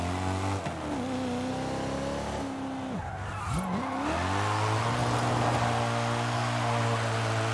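A modified BMW M5 E39 engine in Forza Horizon 5 revs and shifts pitch, dipping briefly mid-way before climbing again into a sustained high-revving drone, close and steady.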